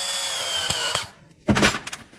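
A drill drives a screw-type plug into a flat tire: one whirring burst, a pause, then a second louder and sharper whine, close up.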